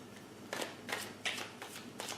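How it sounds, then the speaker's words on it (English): Tarot cards are shuffled in quiet close-up, several soft riffling bursts repeating in an uneven rhythm. "A couple more shuffles and you're good"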